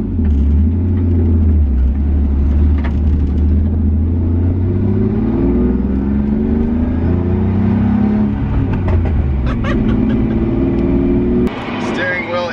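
A BMW E46 drives on the road after being fitted with a new driveshaft, its steady engine rumble and tire roar continuous and close inside the cabin, with someone talking over it throughout.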